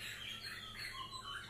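Oriental magpie robin (murai) calling in a breeding setup with a female near a male, giving a faint, continuous run of high, thin chirps and warbles over steady background hiss, with no talking.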